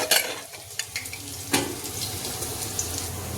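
Dried chili, whole cumin and crushed garlic sizzling in hot oil, a close hiss with a few sharp crackles and clatters early on, settling into a steady fry underneath, with no talking.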